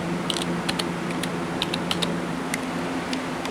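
Computer keyboard from a thrift or trash find being tested in a text editor, with a run of irregular light key clicks close by over a steady low electrical hum, no one speaking.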